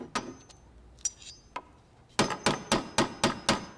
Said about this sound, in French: Est-ce que c'était le bruit de mon marteau?